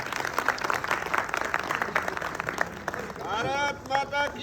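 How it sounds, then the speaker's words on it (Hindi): Applause fills a school Republic Day celebration, dense clapping from a crowd of pupils and staff, then giving way to voices beginning to sing. "जोरदार तालियों के साथ।"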